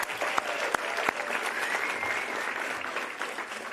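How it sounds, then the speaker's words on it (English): Audience applause at the 2026 Braille Challenge Finals award ceremony honoring the students: a dense, steady wash of many hands clapping together, with a few sharper individual claps standing out near the start. "So maybe we can give them another round of applause."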